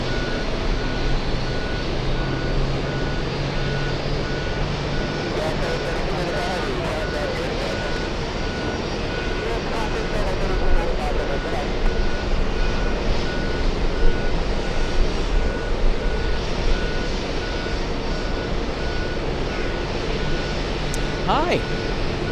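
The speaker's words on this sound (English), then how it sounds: "we got a 747 taking off" A Boeing 747 takes off at JFK, its jet roar rumbling steadily with a high whine, while a reversing beeper and people talking can be heard underneath.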